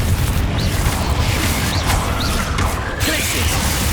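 A loud, sustained roar of a blast spell explosion in the video game Hogwarts Legacy, a dense crashing boom that stays heavy throughout, with faint whooshing effects over the top.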